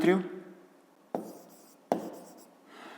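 A pen writing out a math problem on paper, a few soft scratchy strokes with sharp taps as the pen touches down, heard close, following a speaking voice.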